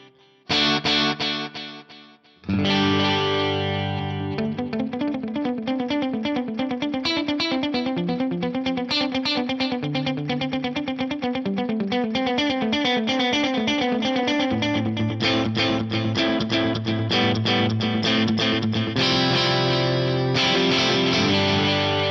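An electric guitar through a vintage digital delay model set to dotted eighth notes, moderate mix and feedback: a steady picked riff whose repeats stack into a dense rhythmic cascade for about twenty seconds, alone and fairly loud.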